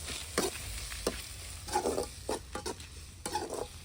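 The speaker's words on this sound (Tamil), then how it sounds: "ஒரு பச்சை மிளகா ஒரே ஒரு தக்காளி ரொம்ப வதங்கணும்லாம் இல்லை கொஞ்சம் வதங்கியிருந்தாலே போதும்" Green chili and tomato sauté in a pan with a soft steady sizzle, broken by repeated scraping stirs of a spoon at irregular intervals, close and moderately quiet.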